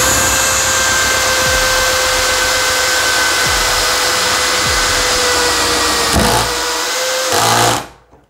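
Bosch GSB 185-LI cordless drill driving a 14x1 inch screw into wood, a steady loud motor whine running for about six seconds, then a brief stop and restart before cutting off.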